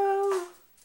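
A house dog gives one short, high whimper that fades quickly, heard close and fairly quiet.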